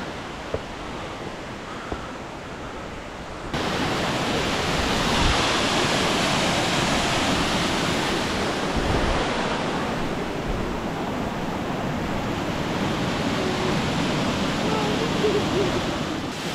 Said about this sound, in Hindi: ये यदि गुजल वाटरफॉल का ये देख सकते हो ऊपर पहाड़ से ही आ रहा है पानी और बहुत तेज़ आवाज़ है